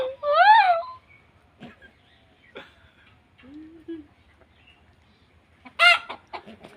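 Rooster and hens squabbling among pigeons, loud squawking calls bursting out at the start and again near the end, with scattered clucks, scuffles and a short low voice in the quieter gap between.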